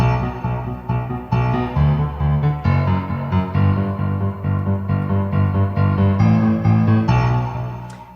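Piano bass line, played in alternating low and high octaves on a steady pulse, loud and full with chords ringing above.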